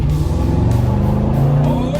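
A 1993 Ford Lightning sport truck's 5.8 V8 roars loudly and steadily up close, a deep continuous engine drone with rising revs throughout.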